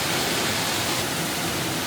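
Paddy's Falls waterfall roars as a steady, dense rush of falling water, loud and close with no pauses and no voices.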